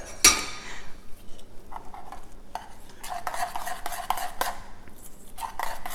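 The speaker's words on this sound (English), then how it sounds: "Now I'm just stirring this, and I'm getting it off the sides" Spoon stirring egg white pancake batter in a bowl, scraping the sides with a steady run of clinks and scrapes close up, no voices.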